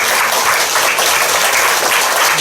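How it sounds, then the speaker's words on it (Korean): A church congregation gives a loud, full round of applause during a Sunday worship service to welcome visitors, with dense, continuous clapping filling the whole short stretch. "우리 큰 박수로 환영합니다."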